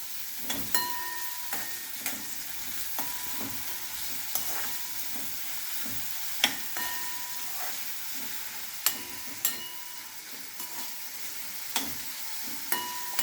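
Chopped onion frying in a pan for a Goan Saraswat pomfret dish, stirred repeatedly with a utensil that scrapes and knocks at irregular intervals over a steady, soft background sizzle, with no talking.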